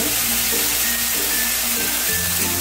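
Green chilli paste sizzles steadily in a hot pan while being stirred for a Bengali vegetarian dhoka curry, a loud, close, continuous frying hiss with faint scraping and no talking.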